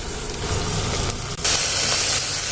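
Chopped onions with coriander and mint leaves frying in a pan for egg biryani: a loud, continuous sizzle with a burst of brighter hissing midway as the greens hit the hot oil, no voices.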